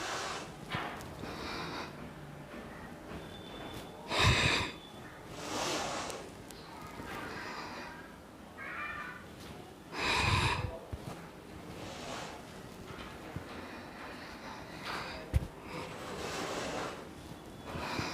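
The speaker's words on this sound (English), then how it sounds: "So inhale, exhale, inhale, exhale. Practice this for the 10 times" Deep inhales and exhales during an at-home breathing and workout exercise come as a few loud, windy breath bursts close to the microphone, spaced several seconds apart over a low steady hiss.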